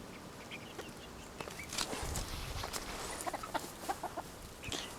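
Chickens clucking outdoors in December, soft scattered clucks and short calls at a faint level, mixed with light footsteps and rustling.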